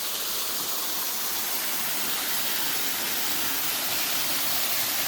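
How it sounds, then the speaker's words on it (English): A small waterfall on a river in a park rushes as a steady, broadband hiss, continuous and fairly close, with no speech over it. "And there's the little waterfall."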